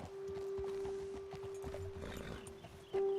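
Horse hooves clopping while riding in a video game, light rhythmic steps under a steady tonal hum, moderately faint, with a sudden louder thump near the end.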